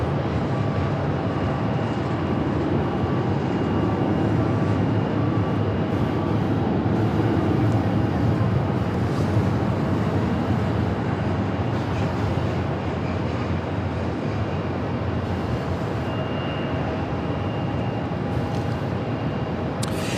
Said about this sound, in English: it's United Airlines 492, a MAX 8